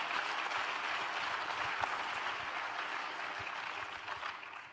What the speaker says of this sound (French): On applaudit Meriem, s'il vous plaît.